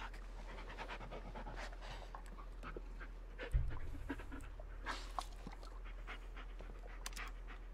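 A dog pants softly and steadily in the Blair Witch video game, with a low drone and a brief thump in the middle and no voices.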